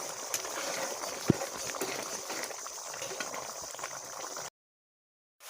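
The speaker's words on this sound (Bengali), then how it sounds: "মশলাটা ভালো করে কষিয়ে নিই" Masala paste sizzles and spatters steadily in hot oil while being fried down for a jackfruit and prawn curry. There is one sharp clack near the start, and the sound cuts to silence before the end.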